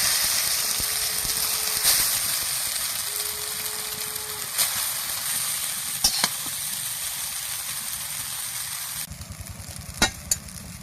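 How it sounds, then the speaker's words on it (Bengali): Chowmein noodles frying in a hot wok for homemade egg chowmein, a steady broad sizzle running throughout with a few sharp clinks and scrapes and a louder burst of frying near the end. "কড়া গরম হয়ে গেছে, এবার অল্প অল্প করে কড়ার মধ্যে দিয়ে দেব।"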